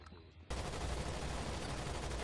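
Sustained gunfire from the tactical shooter Rainbow Six Vegas 2 erupts abruptly after a brief quiet moment and continues as a dense, loud volley through the rest of the clip.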